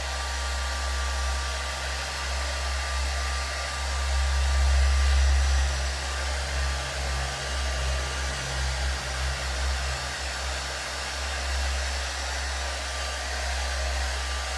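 A hair dryer blows steadily and close, drying hot glue art with a constant broadband whoosh and a low hum that swells slightly partway through.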